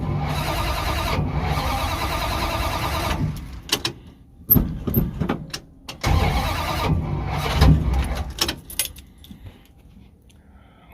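The starter on a 1970 Dodge Charger cranks in two long steady whirring bursts, then the engine coughs and sputters unevenly, with keys jangling and a few sharp clicks nearby.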